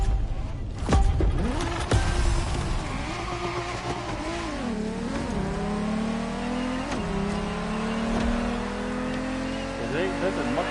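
Car engine in a PS4 racing video game, revving and climbing through gears with rising and falling pitch sweeps, steady and fairly loud throughout with a couple of sharp clunks early on.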